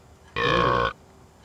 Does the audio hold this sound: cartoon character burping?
yes